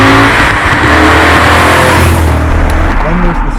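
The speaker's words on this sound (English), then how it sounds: "just the pure induction noise is awesome" A 2002 BMW E39 M5 revs hard, its engine induction roaring loud and close in a sustained, rising snarl that fills the whole stretch before easing slightly toward the end.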